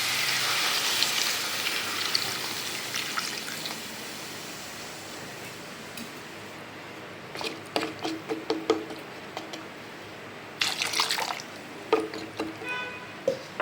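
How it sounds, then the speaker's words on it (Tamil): A soft steady rush of water pouring into a cooking pot of vegetables for avial, followed by scattered clinks and light metallic knocks. "இது நல்லா வேகிற அளவுக்கு தண்ணி ஊற்றணும்"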